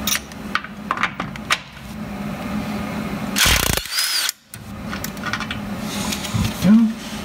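A power tool backing a 10mm bolt out of a bracket on a Jeep JK, a short loud burst of whirring close by, set between stretches of talk and workshop clatter.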